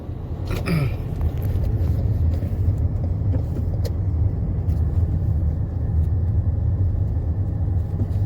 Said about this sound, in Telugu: ఈరోజు ట్రాఫిక్ చాలా ఎక్కువ ఉన్నది